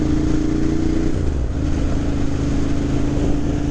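A 2009 Ducati M1100 Monster motorcycle engine runs loud and close, its throttle rising in a steady rev that shifts pitch partway through and holds a strong, rough drone.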